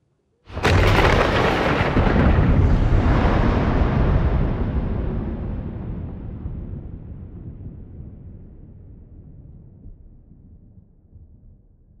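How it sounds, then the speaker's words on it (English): A single loud thunderclap from a storm breaks suddenly, then rumbles and slowly fades over about ten seconds. "Damn storm."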